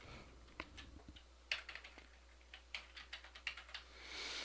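A computer keyboard is tapped to enter a macro name in Excel, a dozen or so quiet, close key clicks in an uneven rhythm against a soft room hum.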